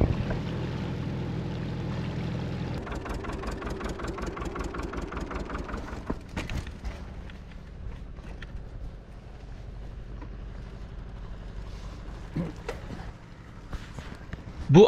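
A small motorboat's engine runs as it heads out to sea under the bridge over Arap Boğan creek at Yenişakran, Turkey. A steady low idle shifts to a rougher, pulsing rhythm, with occasional knocks and splashes nearby.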